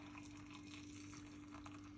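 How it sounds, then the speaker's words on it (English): Hot water poured into a cup, a faint steady trickling stream over a low constant hum. "hot water, into the cup like this."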